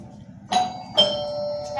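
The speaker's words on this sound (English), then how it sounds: "And there goes the bell." A doorbell rings indoors in a stage performance of Ibsen's A Doll's House, giving two clear, loud, close ding-dong chime strikes about half a second apart, with the second tone lingering.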